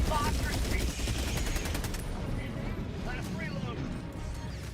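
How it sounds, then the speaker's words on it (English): Helldivers 2 airstrike in a noisy stretch of gameplay: a dense, loud barrage of rapid bursts and crashing impacts for about two seconds, then a rumbling, lower-level din, with voices talking over it. "Airstrike coming in."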